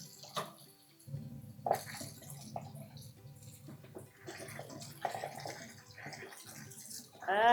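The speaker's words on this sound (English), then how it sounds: "we're going to give them a very good rinse" Dried Andean potatoes rinsed in a bowl of water for moraya con queso, with steady splashing and swishing close by, a brief louder slosh near the end, and a faint voice in the background.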